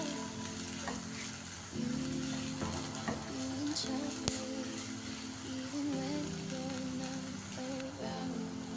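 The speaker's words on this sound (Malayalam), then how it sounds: "ഈ ഉള്ളി പെട്ടെന്ന് ബ്രൗൺ ആവും കിട്ടും. നമുക്ക് പെട്ടെന്ന് ബ്രൗൺ ആവും. അപ്പം നല്ലതായിട്ട് ഇളക്കി കൊടുക്കാം" Steady sizzle of onions frying in oil fills the clip, with scraping and clinking from stirring in a pan, close and fairly loud, without talk.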